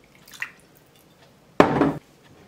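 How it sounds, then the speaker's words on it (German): A short splash of water is poured into a cooking pot while making spaghetti Bolognese at home: a faint clink, then one brief, close pour lasting under half a second, with quiet before and after. "Ich mache noch einen Schluck Wasser dran."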